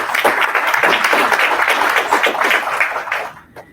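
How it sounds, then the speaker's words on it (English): A crowd applauds steadily, a dense wash of many hands clapping together, then it quickly fades out. "So a big round of applause to you."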